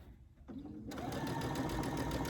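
A Brother Essence VM5200 sewing machine starts stitching, first a couple of slow clicks, then a steady, close, continuous whirring run of stitches.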